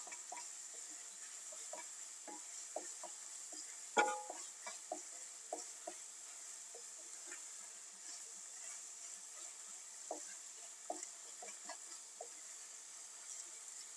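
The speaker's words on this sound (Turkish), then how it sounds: "Hemen bir yemek kaşığı domates salçası ilave ediyorum. Salçamla da şöyle güzelce bir kavuracağım" Vegetables and tomato paste being stirred and sautéed in a pot, a soft steady sizzle with scattered light scraping taps of a spoon against the pot, faint and close, no talking.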